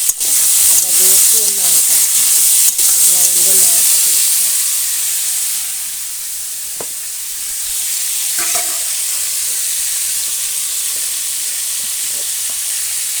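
Pointed gourd (potol) fries in hot oil with a loud, bright, continuous sizzling hiss that eases slightly partway through. A few stirring scrapes break in, and faint voices can be heard beneath the sizzle early on.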